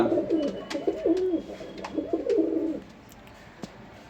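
A male pigeon coos up close in a low, rolling run of throaty calls lasting about three seconds, fairly loud, before the sound drops away to faint background noise.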